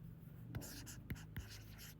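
Pen writing down given values on paper, faint scratching strokes with a few sharper taps, close and quiet, with a low hum in the background.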